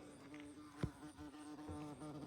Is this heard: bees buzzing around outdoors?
yes